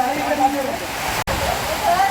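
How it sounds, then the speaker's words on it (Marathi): Steady wind and rain outdoors beside a Mahadev temple at Mahimatgad fort in Ratnagiri, Konkan, heard as a dense, continuous rushing hiss that stays loud throughout, broken by one brief cut. "बाजूला वारा आहे पाऊस आहे"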